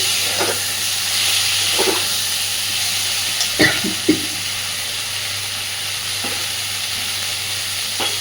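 Potatoes and eggplant fry in hot oil with a steady, loud sizzle, broken by a few soft stirring clatters and scrapes in the pan.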